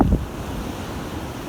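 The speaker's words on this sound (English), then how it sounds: "the beach has been completely swallowed up by these very, very rough waves" Very rough sea waves crash onto Southwold Beach, a loud wash of surf beginning with a heavy surge and settling into a steady roar, with wind buffeting the microphone.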